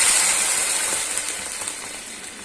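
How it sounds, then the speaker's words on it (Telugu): A glass of water poured into a hot pan for Maggi noodles sends up a loud, bright hissing sizzle that slowly fades and softens over a couple of seconds. "సో ఇందులో మనం వాటర్ పోసుకోవాలి."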